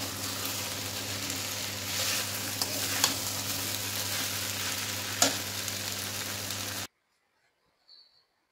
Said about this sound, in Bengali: দেখো সুন্দরভাবে কষিয়ে নিচ্ছি, মশলাটাও সুন্দর কষে গেছে